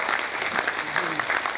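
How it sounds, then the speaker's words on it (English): A business roundtable audience gives a presenter a brief round of applause, a short, even burst of clapping from a modest crowd in a meeting room. "Can we all give him a very good round of applause for that?"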